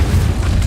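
A short, loud, deep whooshing blast of the Incendio fire spell in Hogwarts Legacy, filling the whole moment with a dense rumble.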